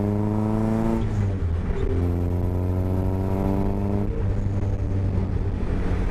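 An MK Sportscars Raw Striker engine drones loudly with a deep, throaty intake sound through an exposed sausage filter, pitch shifting as it accelerates between gears, with no voices.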